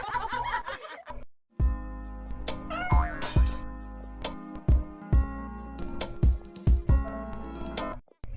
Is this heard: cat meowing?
yes